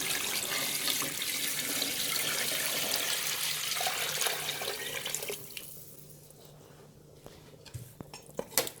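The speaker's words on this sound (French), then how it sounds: "on va rajouter l'eau. Environ 2 litres et demi." Water pours steadily into a pot of browned fish for a fish soup, about two and a half litres, a continuous rushing splash that fades after about five seconds, leaving faint clinks and knocks.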